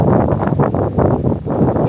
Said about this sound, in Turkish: Tamam rüzgar da var.